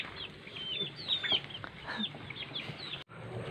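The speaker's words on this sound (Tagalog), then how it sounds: "So may mga manok mga guys oh" Young chickens cluck and cheep in scattered calls over a soft outdoor background on a mountain farm, moderately close, with no one talking.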